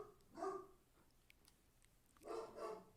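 A dog barks a few times in the background, faint and distant, with two short bursts of barking separated by a quiet gap in a room during a podcast recording.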